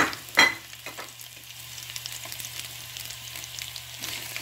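Onion frying in a pan for Filipino pork chop adobo, opening with a sharp clatter as it hits the pan, then a soft steady sizzle with faint stirring over a low hum.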